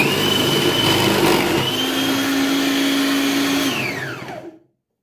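Carrots being grated for gajar ka halwa make a loud, steady motorized whir that runs continuously, then winds down and stops near the end, with no talking.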